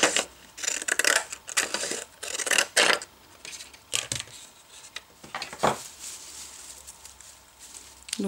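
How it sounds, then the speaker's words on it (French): Pinking shears snipping a small strip of paper for a handmade birth announcement, a series of close, crisp metallic chomps and paper crunches in an irregular rhythm, quiet and without talk. "Donc je fais une petite bande avec mes ciseaux cranteurs."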